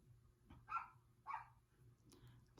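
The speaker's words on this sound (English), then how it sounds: "my dog is going crazy" A dog barks indoors during a crochet session, giving two short, moderately faint barks roughly half a second apart, followed by a softer third sound, over a low steady background hum.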